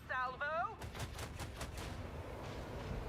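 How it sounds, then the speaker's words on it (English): A cannon salvo fired from a ship in the Warhammer 40k Rogue Trader video game: a rapid series of about five booming shots in quick succession that fade into a low rumble, following a short burst of voice. "I'm firing 5 shots from 4 cannons."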